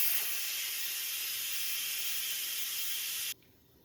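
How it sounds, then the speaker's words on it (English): Steam vents from an Instant Pot during a quick pressure release under a cloth, making a loud, steady hiss that holds unbroken for over three seconds and then drops off sharply to a faint residual hiss. "What we're going to do now is what you would call a quick release."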